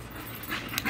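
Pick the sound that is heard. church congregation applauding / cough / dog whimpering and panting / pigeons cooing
dog whimpering and panting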